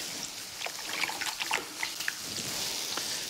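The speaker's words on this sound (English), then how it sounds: "now we're gonna wash our hands" Tap water runs into a kitchen sink as hands are washed, a steady close hiss broken by soft, uneven splashes and trickles.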